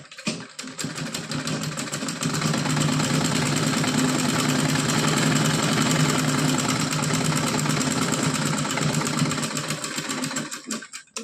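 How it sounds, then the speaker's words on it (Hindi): A sewing machine runs steadily for several seconds, stitching lace onto a cotton dress with a continuous close mechanical whir and rapid needle rhythm, then slows and stops. "इस तरह से इस पे लेस लगा के सिलाई लगानी है।"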